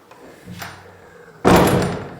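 An old jail cell door in a historic gaol creaks faintly as it moves, then bangs shut with one loud, close slam that rings on for about a second.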